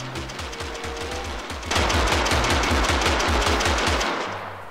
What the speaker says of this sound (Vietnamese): Ở đây có một cái unit khá là hay, đó là Gatling Gun.